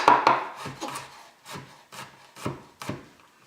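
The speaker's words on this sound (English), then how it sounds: "Super fine chop." A knife finely chopping food on a wooden board for steak tacos, with a series of sharp, irregular chops close by and nobody speaking.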